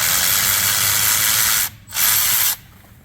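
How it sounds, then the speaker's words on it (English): A ratchet spinning out brake caliper bolts on a 2018 GMC Silverado 2500 3500 truck, a loud close continuous whirring rasp that cuts out briefly, resumes for a short burst, then stops. "So you can use this with an extension, or you can use a ratchet."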